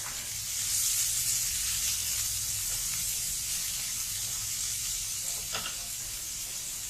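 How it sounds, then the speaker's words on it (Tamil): Chopped onions fry in hot oil with rock salt, a steady loud sizzle that holds throughout with no one speaking. "வெங்காயம் நல்லா பொன்னிறமாக வதங்கட்டும்"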